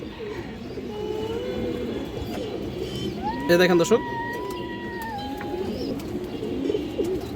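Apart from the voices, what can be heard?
pigeons cooing, China Khaki and Kaldam breeds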